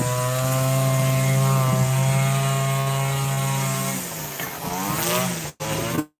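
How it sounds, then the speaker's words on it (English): Lawn mower mowing a lawn nearby outdoors, a steady droning engine hum that runs continuously and fairly loud, easing slightly toward the end before cutting off abruptly. "That's where he is, mowing the lawn."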